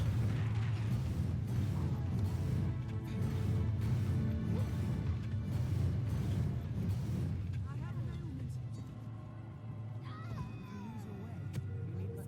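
Dense, continuous combat effects from the fantasy action game Dragon's Dogma as fire attacks are cast, with repeated crashing impacts and bursts over a steady rumble, and a voice talking underneath.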